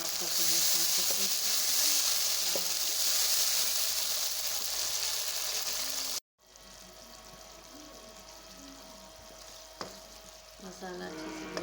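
Spiced masala for chilke wali moong dal fries in a pan with a loud, steady hiss and sizzle, then drops abruptly to a quieter simmering sizzle with occasional stirring clinks.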